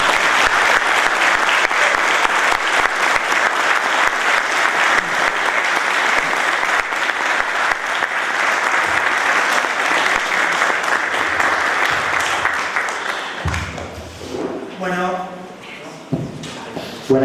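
An audience applauds steadily and loudly to welcome a speaker at a literary event, then the clapping fades and a voice begins talking at the end.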